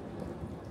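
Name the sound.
heavy rain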